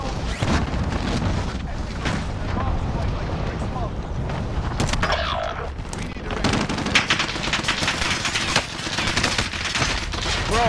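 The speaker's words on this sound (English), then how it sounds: "Who's shooting at you?" Rapid gunfire bursts and distant booms from a Call of Duty Warzone match, dense and continuous under several players talking over the action.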